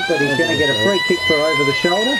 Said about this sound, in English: And that's the siren to end the last quarter.